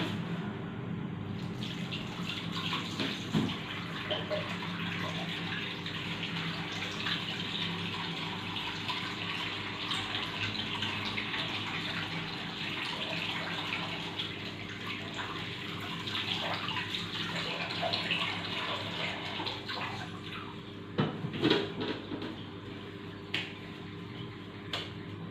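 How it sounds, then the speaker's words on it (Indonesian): Water runs steadily from a tap during handwashing at a midwife's prenatal consultation, a continuous close hiss with faint clinks near the end, no talking. "saya cuci tangan."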